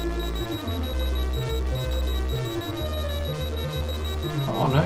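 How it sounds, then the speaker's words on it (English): Repeated electronic beeps pulse in a steady rhythm, loud and close, over a constant high tone. "What on earth is that beeping going on?"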